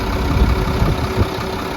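A heavy truck engine idles nearby with a low, steady rumble and slight rhythmic throbbing, loud and constant throughout.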